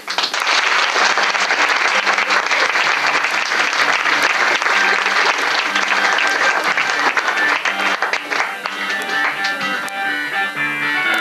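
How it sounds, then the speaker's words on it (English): A comedy show audience gives the evening's poets a loud, sustained round of applause and clapping that fills the whole stretch, dense and close, tapering only slightly near the end. "So we have a rousing smatter of applause for our wonderful poets for the evening."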